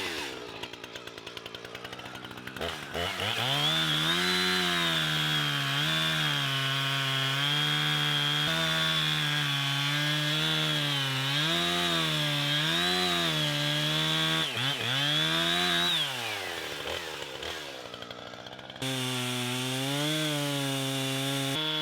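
A borrowed chainsaw cuts through a log with a steady, loud buzzing drone for about twenty seconds, its pitch dipping and rising as the blade bites into the wood, then briefly drops out before revving back to full cut.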